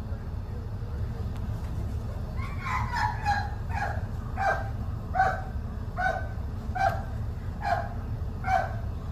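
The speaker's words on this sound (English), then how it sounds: "they've got the dog searching, sniffing the vehicle right now." A border search dog checking a vehicle gives a run of roughly a dozen short barks and yips at an irregular, insistent pace. They sound moderately close over a constant low rumble, probably an idling engine.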